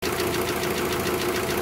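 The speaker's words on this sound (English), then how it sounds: "while the engine is running and ticking over to let the new oil work its way around" A Rover 45 with a 1.4 K-series petrol engine idles steadily after an oil change, a constant close mechanical drone with a light rapid ticking running evenly throughout, no voices.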